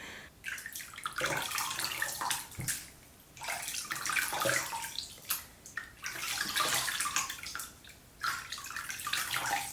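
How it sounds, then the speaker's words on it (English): Water splashes in repeated bursts with short pauses between them, close and fairly loud, like hands scooping and throwing water. "I just splashed my face with water."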